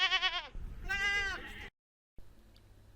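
Goats on a farm holding over 100 animals bleat close by in two long wavering calls, followed by a short silence and then quiet farmyard background.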